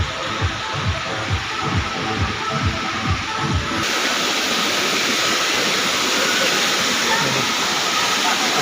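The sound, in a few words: waterfall at a park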